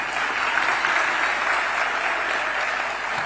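An audience applauds after a speech at an event at Tom Mboya University, a dense, steady clapping that fills the whole stretch at a constant loud level with no voices.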